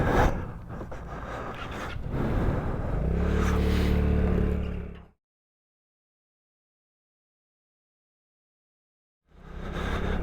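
A Vespa scooter brakes hard in an emergency stop: an engine-and-tyre rush builds and swells, then cuts to silence before the motor returns.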